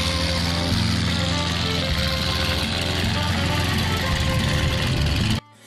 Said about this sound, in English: Zeferu fired up the engine.